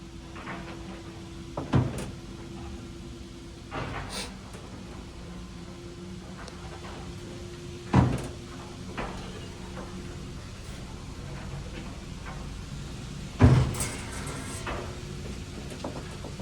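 Staley manually controlled traction service elevator in New York running, with a steady low hum broken by several sharp clunks and clanks at irregular intervals, heard close in a quiet shaft.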